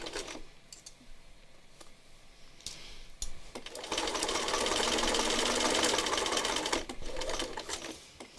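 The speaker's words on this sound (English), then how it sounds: "this is just the bias, the two bias pieces that I am stitching" A sewing machine runs in short bursts, then stitches steadily for several seconds as two bias pieces are joined, loud and close with a whirring, rattling drone that stops abruptly.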